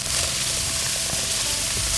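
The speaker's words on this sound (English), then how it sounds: "with all the sizzling" Onions fry in a pan with a loud, close, continuous sizzle that holds steady as a dense hiss the whole time, with no talking.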